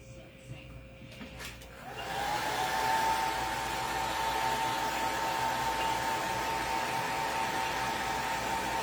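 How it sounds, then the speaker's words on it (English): A blow dryer switches on and runs steadily at close range, a loud continuous whooshing roar of hot air aimed at craft bottles coated in paste, with quieter room sound before it starts. "I'm going to take a blow dryer to these."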